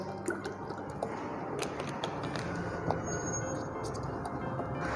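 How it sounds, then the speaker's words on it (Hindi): Plain water poured over a burned patch of skin as first aid, a continuous close splashing and trickling stream with scattered drips, no voices. "फौरी इस हिस्से पे पानी डालना है"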